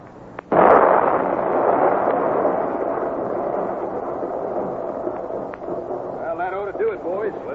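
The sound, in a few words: dynamite explosion, radio drama sound effect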